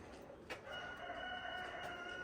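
A rooster crows at an animal rescue shelter in Lviv, a single drawn-out call close by against steady background noise.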